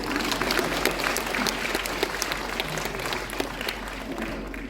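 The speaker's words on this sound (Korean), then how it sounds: "박수 한번 보내주시면 좋을 것 같습니다." Sustained applause from a lecture audience at a city hall academy event, steady dense clapping filling the whole stretch at moderate distance with no voices over it.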